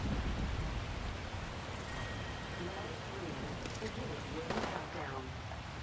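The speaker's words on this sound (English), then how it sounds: "Hear that storm coming." Steady storm rain hisses loudly in an Apex Legends game scene, a dense wash of falling water with a low rumbling undertone and faint voices.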